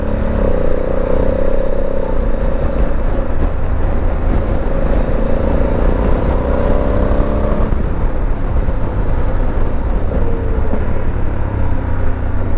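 A Honda Africa Twin CRF1100L motorcycle in sport mode, ridden on a road, rumbles steadily with the engine note shifting as it blips on downshifts. Heavy wind roar runs under it throughout.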